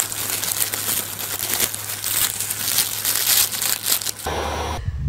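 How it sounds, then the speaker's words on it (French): Dried hop cones, made of membranous scales, are crumpled and crushed close up in a dense, continuous crackling rustle for about four seconds before it stops abruptly. "dont le bruit, lorsqu'on le froisse, rappelle celui des cigales"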